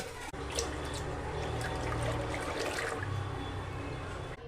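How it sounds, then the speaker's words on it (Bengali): Two litres of milk pours steadily into a large bowl for rice kheer, a continuous close liquid stream that runs unbroken for a few seconds with no voices. "দুধটা আমি ঢেলে নিলাম গামলায়।"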